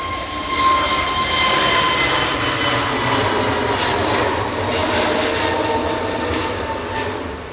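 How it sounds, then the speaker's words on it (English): An EasyJet Airbus A321neo jet departs Manchester Airport, a loud, steady broadband engine roar that holds for the whole stretch with no voices. "EasyJet departing to Lisbon, OE ISH. It's an A321neo"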